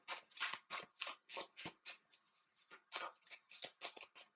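Tarot cards riffled and slid against each other in quick repeated bursts, a dozen or so close, crisp papery flicks with short gaps between them and no talk.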